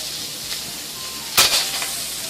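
A steak drops into a hot, dry pan with no oil and sets off a steady hiss that swells into a sharp, louder sizzle burst partway through before settling back to a constant sear.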